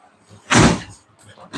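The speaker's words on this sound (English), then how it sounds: "Just have to close the garage for a second, just in order to fold that ladder" A residential garage door closes with one loud, short slam-like burst near the microphone, framed by quiet moments and a smaller knock right after.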